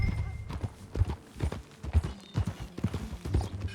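Horse hooves clip-clop in Red Dead Redemption 2, a steady, fairly close run of strong low thuds at a riding pace, with a faint voice briefly over the hoofbeats.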